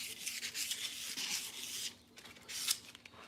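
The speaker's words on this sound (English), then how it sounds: "Just scuffing up some surface rust that was on these" Steel roll cage tubing scuffed to remove surface rust, short abrasive rubbing strokes close by, a quiet gritty scrape with brief pauses.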